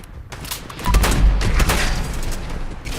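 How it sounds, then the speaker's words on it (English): Rapid automatic weapon fire from a Gatling laser and a Gatling rifle in the game Fallout 76, a dense fusillade of shots with heavy low thumps that swell loudly after the first second and continue steadily to the end. "Interesting how she uses a Gatling laser while he just has a Gatling rifle,"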